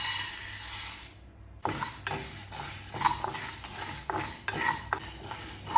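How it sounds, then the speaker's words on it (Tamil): Urad dal dry-roasting in a kadai while a spatula stirs it, with close scraping strokes and light metallic clinks after a brief pause, and no talking. "உளுந்து வறுத்துக்கலாம்."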